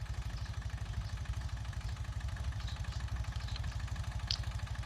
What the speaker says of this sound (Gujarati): એમાં પણ આસાનથી ચાલી રહ્યું છે ટ્રેક્ટર.